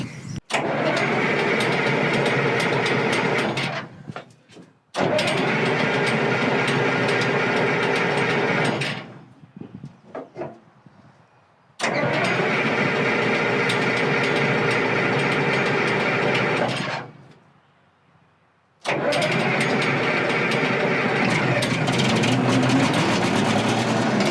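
The engine of a scrapped bulldozer is cranked, with three long grinding, ratcheting starter bursts separated by short pauses. Faint mechanical rattles fall between the bursts, and the final attempt runs on to the end.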